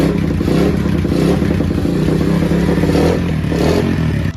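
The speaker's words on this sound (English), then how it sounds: "Let's get the throttle assembly installed and give it a test fire." A cheap pit bike's small engine, just fitted with a new throttle assembly, runs steadily and loudly up close for a few seconds, with a constant buzzing drone and light mechanical clatter throughout.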